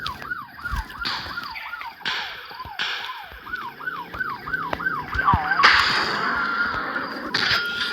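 A wailing police siren rises and falls in steady repeated sweeps, loud and close, with crashes and engine noise from the game around it.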